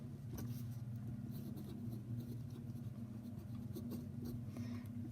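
Kaweco broad nib fountain pen writing on paper, faint scratchy pen strokes in short bursts under a steady low hum of a car engine in the background.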